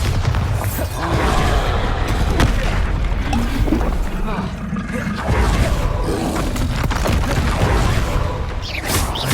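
Booming Bombarda blasting-spell explosions from the Hogwarts Legacy video game, loud and repeated in a dense battle mix of bursts and rumbling impacts, with a voice calling out over them.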